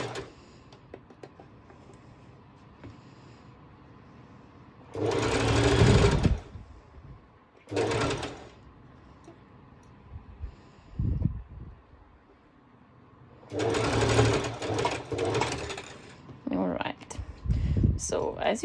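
A sewing machine runs a basting stitch along stretchy swimsuit fabric for a trikini, in several close bursts of rapid mechanical whirring separated by quiet pauses with faint handling of the cloth.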